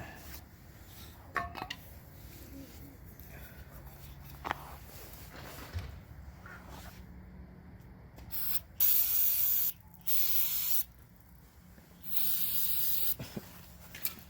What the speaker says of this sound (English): where's my spray bottle at?